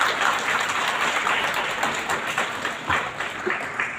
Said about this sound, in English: will give a very big round of applause to you, sir